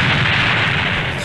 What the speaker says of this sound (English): More missiles!